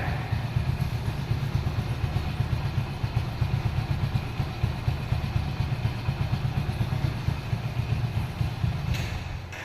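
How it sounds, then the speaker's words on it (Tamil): A Hero Honda Splendor Plus motorcycle engine idles steadily nearby, a low, even putter with faint mechanical clatter and no voices. "வண்டியோட இன்ஜின் பார்த்தீங்கன்னா சும்மா கம்முன்னு இருக்கு"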